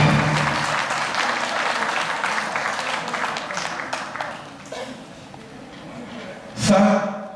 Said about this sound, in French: On peut les acclamer très fortement.